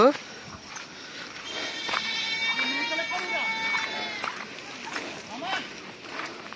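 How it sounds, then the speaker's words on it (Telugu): Faint bleating of young goats rises in the distance near the Bayaram waterfall, beneath nearby talking voices, with some rustling and footsteps. "చిన్న మేకల సౌండ్ వినబడుతుంది"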